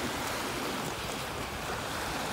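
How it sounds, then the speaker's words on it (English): Small wind-driven breakers wash steadily along the Taunton River shore near Mount Hope Bay at Fall River, a continuous broadband rush mixed with gusty wind noise, close and moderately loud throughout, with no voices. "You don't usually get little breakers like this. It takes some wind."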